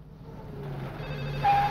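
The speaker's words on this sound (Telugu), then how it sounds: "ఫోన్ వస్తుంది" A telephone rings once near the end, a short clear tone rising over a low steady hum of background noise.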